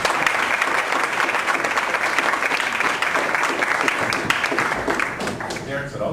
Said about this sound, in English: please give a round of applause for Mike Wynn of Sandler Sales Training